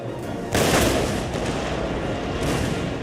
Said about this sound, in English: we're just ripping him up with cannon shot right down the middle